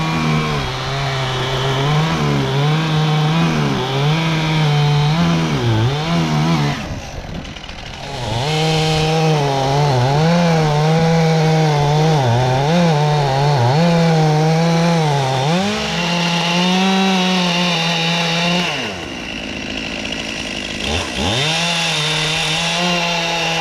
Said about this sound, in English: I've also been in the woods with my chainsaw.